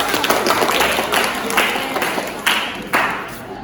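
A primary school class applauding during a peer-teaching lesson, many hands clapping loudly and closely in a steady burst, a few sharper individual claps standing out near the end as it tapers.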